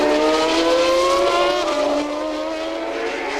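A Formula 1 car with a Judd engine, revving past 12,000 RPM at the 1990 French Grand Prix, gives a loud, high-pitched engine wail. Its pitch climbs and shifts as it passes, then the sound eases slightly.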